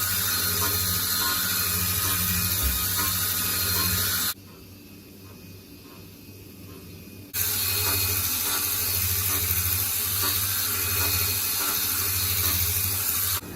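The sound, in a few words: CNC cutting machine doing diamond cut on gold bangle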